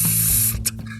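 Aerosol spray can hissing in a steady, bright burst for about half a second, followed by a few shorter, softer spurts and faint rattling, close and with no voices.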